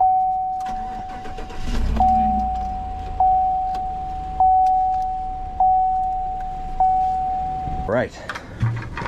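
A car engine in cold, very windy weather outside a parking lot idles and warms up, a steady tone with repeated swelling pulses over several seconds and a brief rustle near the end, heard close by.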